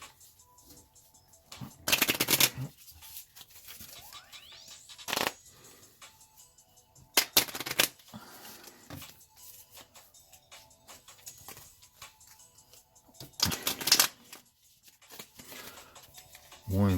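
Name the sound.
shuffling a deck of cards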